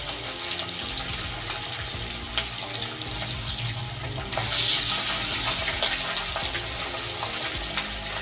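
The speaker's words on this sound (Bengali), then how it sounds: "মাছটা সেরকম ফাটিয়ে, মানে ভীষণ ফাটে, ফাটফাট করে সারাক্ষণ যতক্ষণ মাছ ভাজা হয়" Pabda fish frying in hot oil sets up a loud, steady sizzle dense with crackling pops, swelling noticeably louder about halfway through, with no voices.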